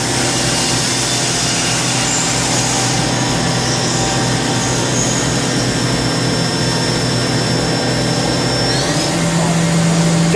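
A 2005 Haas VF-2SS vertical CNC machining center's spindle runs at high RPM. It gives a steady, loud whine over broadband mechanical roar, and the pitch shifts near the end as the speed changes.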